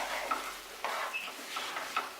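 Fried potatoes are stirred into sizzling spices in a pan for a spicy ol chingri dish, with a few quick scraping strokes over a soft, close frying hiss.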